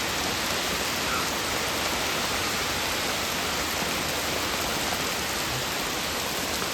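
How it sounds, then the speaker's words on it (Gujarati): Heavy rain falling with strong wind in a village near Botad, a dense, unbroken roar of downpour, loud and steady throughout with no voices. "બધી બાજુ વરસાદ છે"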